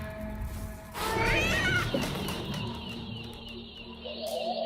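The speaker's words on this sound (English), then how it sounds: "Oh, it's a kitty." A cat meows in a video game trailer, the cries thin and high over busy music and sound effects, fairly close and in the foreground.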